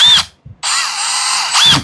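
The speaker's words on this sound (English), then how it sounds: "you're going to want to make sure that you set your drill bit so that you're not going to go all the way through the front" A power drill whirs through wood while drilling a hole for a woodworking insert, two short bursts followed by a longer steady run, loud and close, with no talking.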